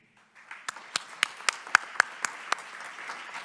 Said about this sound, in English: Thank you for your good round of applause.